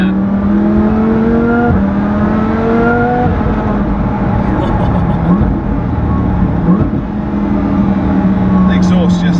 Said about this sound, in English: The exhaust just complements the Charger installation brilliantly.